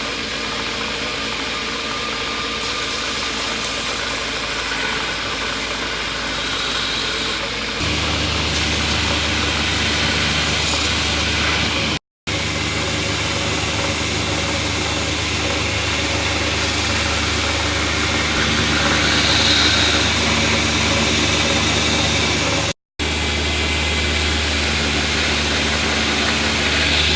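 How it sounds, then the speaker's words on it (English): An angle grinder grinds down the edges of a steel knife blank in a workshop, giving a loud, continuous motor roar with a deeper hum settling in partway through and two brief cut-outs. "let's get these edges all ground down"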